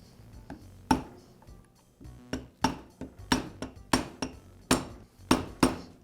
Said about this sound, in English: use a large socket to tap the bearing into place on its outer race